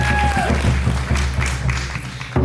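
A concert audience applauds in a short burst of clapping, loud and dense, with a fading tone and some crowd noise mixed in.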